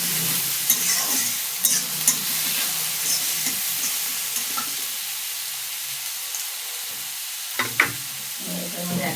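Oil left over from frying papad sizzles in a pan on the stove, a constant close crackle with scattered utensil knocks and scrapes, with no speech over it.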